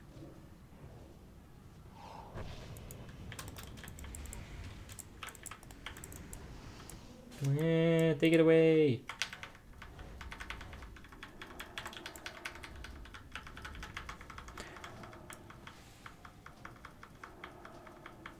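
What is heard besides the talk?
typing on a loud computer keyboard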